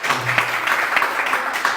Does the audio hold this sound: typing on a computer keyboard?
no